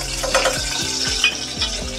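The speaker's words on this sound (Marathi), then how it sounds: "इथं थोडा हिंग टाकून घेऊया।" Asafoetida hits hot oil in a kitchen pan, giving a steady close sizzle and frying hiss, with faint stirring scrapes underneath.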